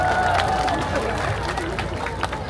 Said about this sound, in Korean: 다시 한번 두 배우님께 큰 박수 부탁드립니다